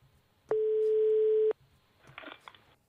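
An outgoing telephone call to Finland gives one steady, sustained ringback tone lasting about a second, clear and alone on the line, followed by faint scattered clicks and noise.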